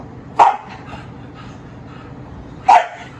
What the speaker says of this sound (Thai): เอ๊ะไอเบนมันเห่าแหละ